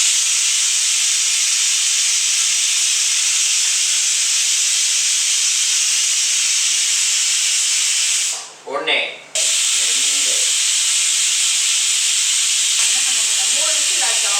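A loud, continuous steam hiss from a pressure cooker whistle in a home kitchen, briefly interrupted as a voice speaks, then the hissing resumes.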